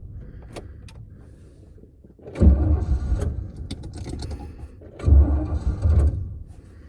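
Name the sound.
1984 Chevrolet C30 truck engine dying, out of gas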